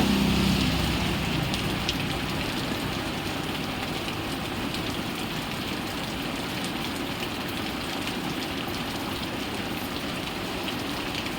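Steady rain pours down in a dense, continuous hiss, close and fairly loud, with a faint low rumble underneath.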